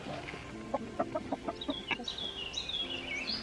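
A small rooster on a permaculture micro-farm clucks in a series of short, close, rhythmic calls, followed by a higher drawn-out crowing cry, with no talk over it.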